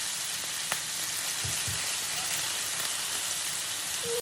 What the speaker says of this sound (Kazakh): Содан соң үстіне тауығымызды саламыз да қуыратын боламыз.